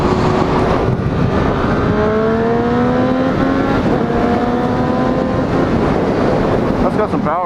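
A 2014 Triumph Street Triple motorcycle accelerates hard, its engine note climbing through the gears with quick shifts, loud and close under heavy wind rush.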